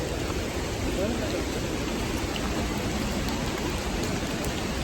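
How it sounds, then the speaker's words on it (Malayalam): Heavy rain at Athirappilly waterfalls pours as a dense, loud, continuous hiss of falling water with no pauses. "നല്ല മഴയുണ്ട്"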